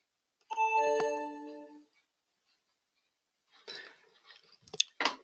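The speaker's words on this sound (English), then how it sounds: "is the computer notifying me that there is a new trade" A short two-tone chime from computer day-trading software sounds once, signalling a new trade. It is clear and alone, followed after a pause by faint clicks and soft handling noises.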